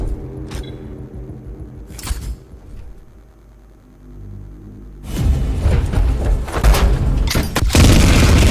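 Gunfire from an animated Warhammer 40k fan film: scattered heavy booming shots at first, then a loud sustained burst of rumbling fire and explosions in the second half, with no talking.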